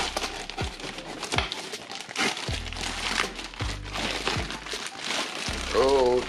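Plastic wrapping and cardboard packaging around an Aerotec Forte Titanium diver watch are torn and crumpled open close up. Irregular crinkles, rips and crackles come in bursts, mixed with low handling thumps.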